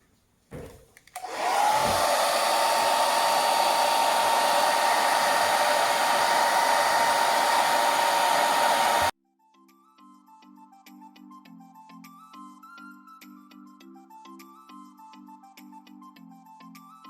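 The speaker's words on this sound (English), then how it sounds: "I'm wondering if I heat it with a hairdryer, would that make it worse?" A hairdryer blasts steadily and loudly for about eight seconds, warming polyurethane resin, then cuts off abruptly, leaving a quiet melodic tune playing in the background.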